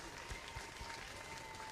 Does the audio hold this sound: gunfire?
no